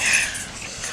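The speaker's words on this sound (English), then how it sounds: "That's a dog." A dog sound, breathy and snorting like panting or a soft whimper, close by and fairly steady for about a second.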